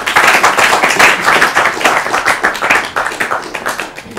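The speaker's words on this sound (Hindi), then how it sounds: "तो भाई हमारे लिए तालियां बजाइए" A studio audience at an Urdu quiz programme breaks into loud, dense applause, many hands clapping continuously and close by, slowly thinning toward the end.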